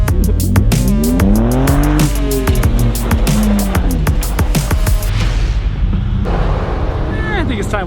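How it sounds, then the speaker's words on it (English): Ford Raptor pickup spinning donuts on ice, its engine roaring with sweeping pitch changes and sharp tire squeals up close, while voices talk over it. "You whipping some donuts."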